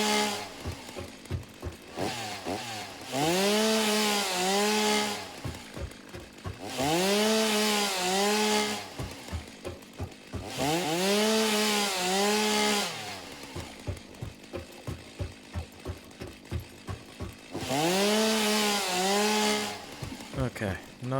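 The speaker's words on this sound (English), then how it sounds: "here I am actually going to use the chainsaw though" A chainsaw cuts in the video game Satisfactory, with repeated revving bursts that rise and fall in pitch between choppy idle stretches. The loud, close bursts run throughout.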